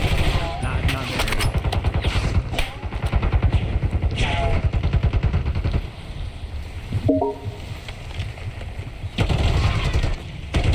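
Hip fire gunfire in Call of Duty, rapid automatic bursts crackling in quick repeated strings with brief pauses between, loud and close, while someone talks over the shooting.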